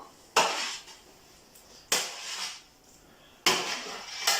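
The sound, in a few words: roasted vegetables being added to a cooking pot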